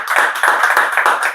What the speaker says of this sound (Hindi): तो उनके लिए तो तालियां तो फिर से बनता है।